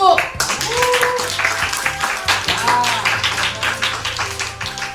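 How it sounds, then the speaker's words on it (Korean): Students in a high school math classroom clap together, sharp hand claps in quick bursts with chatter and a teacher's voice mixed in close by. "자, 박수!"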